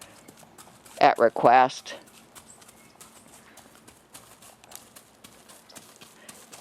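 Hooves of a trained cow horse clop softly on the ground as it backs up, faint scattered steps spread through the clip, with a man's short spoken phrase near the start.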